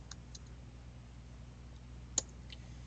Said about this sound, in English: If you want to email Joseph Alberts, just click the little mail icon and the email editor pops up.